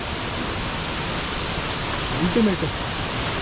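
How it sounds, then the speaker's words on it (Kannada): Kadamagundi waterfall in the Kudremukh wildlife area, near a forest, roars as a steady, dense rush of water throughout, with a brief voice speaking over it near the end. "ಕಡಮಗುಂಡಿ ಜಲಪಾತ"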